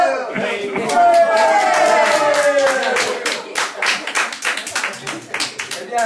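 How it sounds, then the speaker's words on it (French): An audience breaks into applause, a dense patter of many hands that thins into scattered claps near the end, with a voice and a sung or spoken line running over the start. "sous les applaudissements du public"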